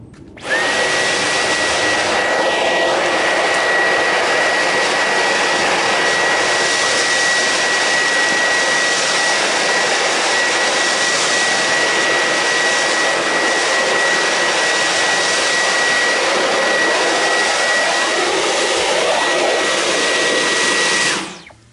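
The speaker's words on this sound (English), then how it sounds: "That was a powerful Dyson vacuum." Dyson vacuum cleaner sucking up water from a floor, running continuously with a loud high-pitched whine and rushing airflow, starting and stopping cleanly, close by.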